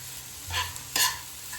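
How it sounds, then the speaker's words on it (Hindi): Rice with vegetables and spices being stirred in a pan, two short scraping strokes over a faint steady sizzle of frying, close and without talk. "इसमें हमें सब्जी और मसाले को अच्छे से मिक्स कर देना है"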